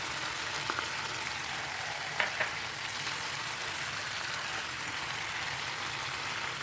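Steady, loud sizzling of fish frying in hot oil, a constant crackling hiss throughout with a couple of faint clicks near the middle.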